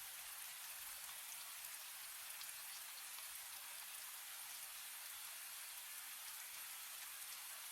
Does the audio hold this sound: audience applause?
no